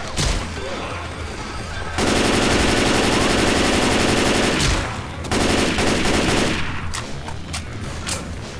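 Rapid automatic gunfire in the co-op zombie shooter Left 4 Dead 2, loud and sustained in two long bursts separated by a short pause, with scattered shots trailing after.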